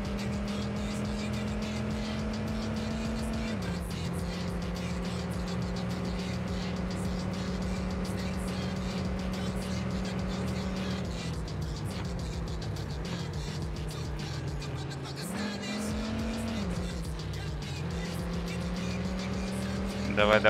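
An AC Cobra 427 racing in TORCS gives a steady, loud engine drone that holds its pitch, drops with gear changes and braking, then climbs again, with faint tire noise beneath.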